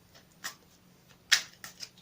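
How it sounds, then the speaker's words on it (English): A Radiant Rider Waite Tarot deck being shuffled by hand: a few short, crisp riffling bursts separated by quiet gaps, close and fairly soft. "I'll shuffle them again one more time for you on camera"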